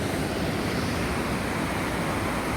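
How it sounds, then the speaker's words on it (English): The flooded River Don in Sheffield rushes past in a dense, steady roar of water, loud and unbroken, with wind buffeting the microphone. "Currently going to the River Don. It is in flood."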